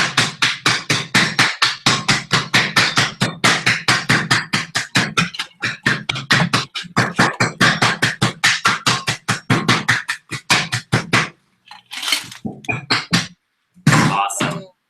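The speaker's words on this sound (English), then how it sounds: "to hammer the heck out of this." Rapid, repeated heavy blows of a hammer crushing ice for a drink, dozens of close, sharp thuds in a steady rhythm that breaks into a few scattered strikes at the end.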